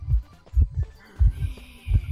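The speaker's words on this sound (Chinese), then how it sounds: "那现在心跳来了" A heartbeat warning from the game Identity V, a close, loud, deep double thump repeating steadily about every 0.65 seconds, with faint game sounds behind it.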